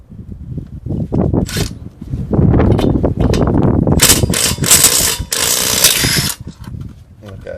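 Milwaukee M18 2656 cordless impact driver rated at 1500 inch-pounds driving car lug nuts, loud close bursts of rapid hammering with short gaps, ending in a long sustained rattling run; a brief word is spoken early.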